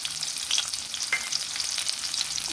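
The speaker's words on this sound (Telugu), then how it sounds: "ఆనియన్స్ గార్లిక్ వేసుకుందాం" Onions and garlic frying in a pan with cumin seeds for a coconut chutney, a steady close sizzle with occasional stirring scrapes and no talking.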